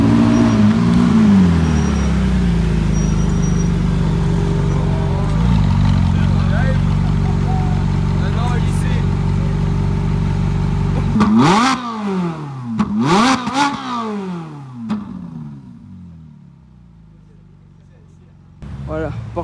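Porsche GT3 RS sports cars accelerating on a rally stage at Gérardmer, with loud, close engine roars sweeping past in quick bursts after a stretch of steady rumble and crowd noise, and the voices of people nearby running under much of it.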